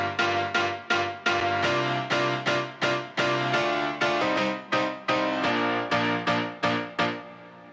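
Disco house remix chords, not yet pitch shifted: bright stabs repeated in a steady rhythm, each one decaying quickly, loud and alone.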